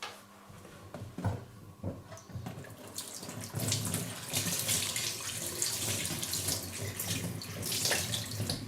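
Tap water runs into a sink as cheesecloth used for making tofu is washed out, a continuous close splashing and gurgling that grows fuller after a few seconds, with occasional handling knocks.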